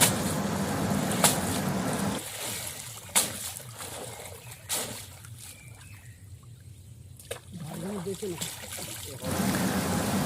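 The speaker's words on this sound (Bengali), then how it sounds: "ফেলে দেওয়ার পরে পরিষ্কার করে আলুগুলো ভালো করে ধুয়ে নিচ্ছি।" Potatoes being washed by hand in water, giving soft trickling and sloshing in intermittent bursts close by, with quiet gaps between.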